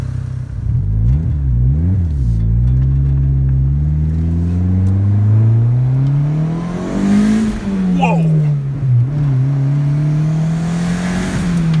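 A turbocharged Honda Civic built from an eBay turbo kit pulls down the road, engine note climbing and falling through revs with a whirring boost tone, steady and close from inside the car.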